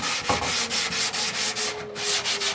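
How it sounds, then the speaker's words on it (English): Tub paint on a Garrard Zero 100 S turntable being scuffed by hand with 220-grit sandpaper: close, loud, rhythmic back-and-forth rasping strokes roughly five per second, with no voices. "All I'm gonna do is kind of scuff it up with some 220."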